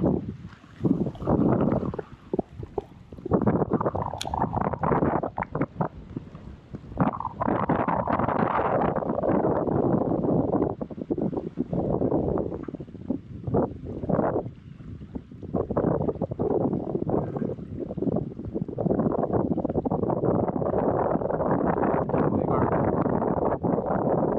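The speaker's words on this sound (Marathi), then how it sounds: "वारा खूपच जास्त आहे, खूप म्हणजे खूप जास्त आहे" Strong wind blows at sea during rod fishing for red snapper and grouper, a loud roaring buffet across the microphone that surges and dips in gusts throughout.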